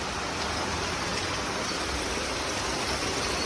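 Rain pours outdoors during a windy storm, a dense, steady hiss that fills the whole stretch without a break and with no voices.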